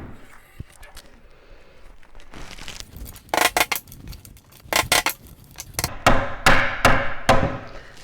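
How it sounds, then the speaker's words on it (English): Sharp knocks and taps from a hammer knocking furniture trim into place in a VW T5/T6 van ring out in irregular bursts, growing louder and more frequent toward the end, with faint handling noise between. "You can use the hammer handle to just knock it in on the inside"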